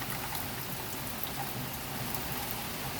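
Steady rain falling during a drought after thunder, a dense even hiss of drops hitting surfaces, constant and moderately close with no voices.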